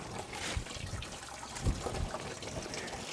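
Coolant from a 1990s BMW E34 535i draining into a pan, a soft steady trickle and splatter with a few louder drips, close by and fairly quiet.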